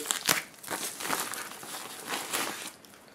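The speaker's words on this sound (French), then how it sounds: "Dans son papier bulle." Close crinkling and crackling of bubble wrap around a multimeter being handled, in irregular bursts of rustling with no speech.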